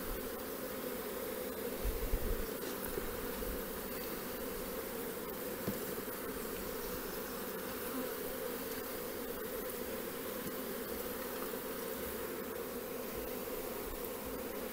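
Honeybees buzzing steadily around an open hive nucleus being combined for wintering, a dense continuous drone close by with no talk.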